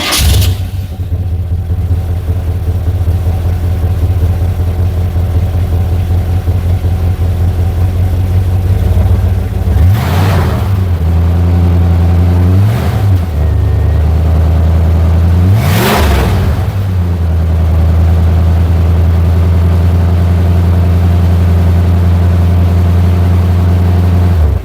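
A 1978 GMC Sierra Grande C15 square-body pickup idling loud and close, a steady low engine drone broken by three brief revs that rise and fall before it settles back to idle.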